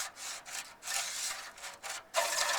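Rough scraping and rubbing as a rod pushes debris down through the tubes of a Model A radiator core, a series of back-and-forth strokes, close and fairly quiet with no talking.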